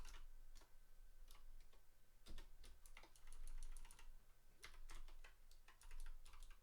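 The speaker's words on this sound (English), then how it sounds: "Oh gosh, so much typing." Typing on a computer keyboard while coding in Rust: faint, quick, irregular clicking keystrokes in uneven bursts with short pauses, and no talk.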